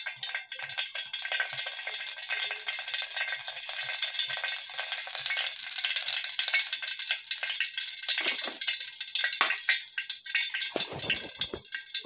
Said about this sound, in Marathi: आता मी तेल टाकत आहे, हे 4-5 चमचे तेल मी टाकलेलं आहे आणि गॅस थोडा फास्ट केलेला आहे